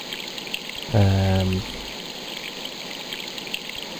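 Flowing water in the Broken Sword video game, a steady low hiss that runs the whole time, broken by one short tonal musical blip near the start.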